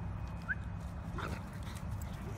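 Faint yips and whimpers from a dog at an off-leash dog park, brief and distant over steady outdoor background rumble.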